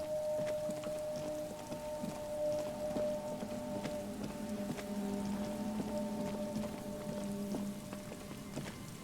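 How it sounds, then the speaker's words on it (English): Steady rain and coastal wind near the cape, with reeds swaying, in the video game Disco Elysium, forming a continuous ambient wash of patter and breeze under faint tonal music, with no talk. "The reeds shake sadly in the coastal breeze, weighed down by rain."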